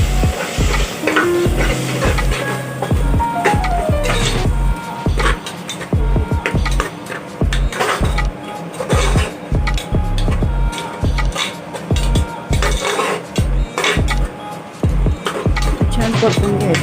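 Fenugreek leaves and yogurt are sautéed in a pan at low heat, with a steady run of spatula scrapes and stirring knocks against the metal over a soft sizzle.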